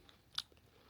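A single crisp crunch as teeth bite into a crispy chocolate bar snack, one short sharp crackle close up in an otherwise quiet room.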